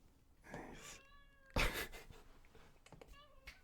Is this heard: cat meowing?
yes